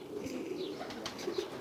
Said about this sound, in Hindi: और इसमें उड़ने वाले कबूतर।